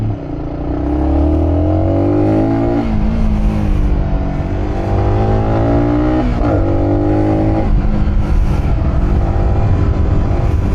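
A Yamaha XSR 155 motorcycle held in third gear on a small track, its engine revving loud and close with repeated rising pitch sweeps and brief drops between throttle openings.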